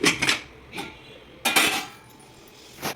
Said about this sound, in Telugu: ఇప్పుడు కుక్కర్ పెట్టేసుకుంటున్నాను.